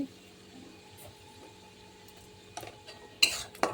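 Masala spice paste is stirred in a pan for a fish curry, giving faint scraping under a quiet background hum, then a few sharper metallic clinks and scrapes of the spoon toward the end.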